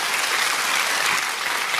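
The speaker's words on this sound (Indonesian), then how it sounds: "Coba yang berpengharapan beri tepuk tangan buat dia." A church congregation applauds during a sermon, a dense, steady wash of many hands clapping at close range, loud and continuous with no voices on top.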